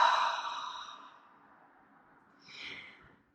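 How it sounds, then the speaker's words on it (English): Ujjayi breath exhaled through the back of the throat during pranayama practice: a soft, close, airy hiss that fades out over a second, then a shorter, fainter breath follows. "it's a breath that sort of comes through the back of the throat"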